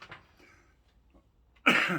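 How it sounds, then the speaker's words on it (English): A single sharp cough bursts out near the end after a quiet stretch with faint breathy sounds, close and loud. "Do it properly, cough into the elbow."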